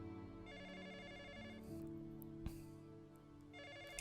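A telephone rings in a movie scene, its electronic ringtone repeating in steady bursts over a low background music bed, with a brief thump partway through.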